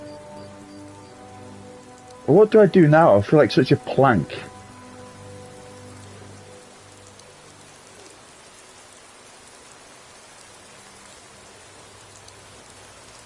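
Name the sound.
rain in the video game Skyrim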